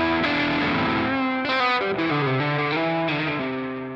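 Electric guitar played through a Mooer GE250 multi-effects pedal with an airy, effects-laden tone, sustained chords and notes ringing out in a lush, layered wash that changes pitch every second or so, with no voices.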